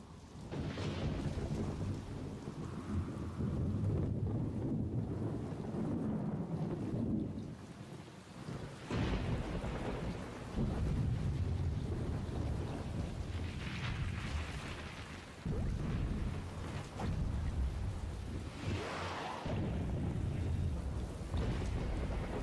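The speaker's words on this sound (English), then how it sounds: "A rainstorm can be deadly." A thunderstorm with steady heavy rain and repeated rolling thunder, rumbles swelling and fading several times, with a brief lull near the middle.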